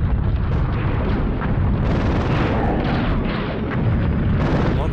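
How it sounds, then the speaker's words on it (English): A tank cannon blasts in the Army Men: Sarge's Heroes video game, a loud, sustained rumbling explosion with booming low end that rolls continuously, followed by further crashing bursts. "Oh, the sound of a tank."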